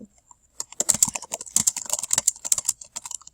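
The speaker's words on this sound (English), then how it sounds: "you're just going to hit the Enter key that is on the right side of your keyboard" Typing on a computer keyboard: quick, close, crisp key clicks in an irregular burst, with no talking.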